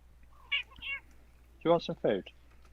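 Several distinct meows from a hungry house cat, a faint pair early on and then three louder, closer calls in quick succession near the end.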